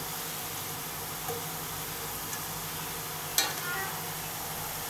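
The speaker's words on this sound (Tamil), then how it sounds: "முறுக்கு நல்லா வெந்துக்கிட்டு இருக்கு இந்த பபிள்ஸ் நின்றுச்சுன்னா முறுக்கு வெந்துருச்சுன்னு அர்த்தம்" Coconut milk murukku deep frying in hot oil, giving a faint, steady bubbling hiss with one sharp click of a utensil near the end, close and quiet.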